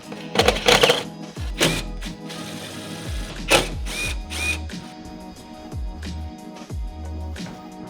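Short bursts of power drilling into the metal of a Chevy Astro van start and stop repeatedly, with loud whirring grinding pulses separated by brief pauses, close by.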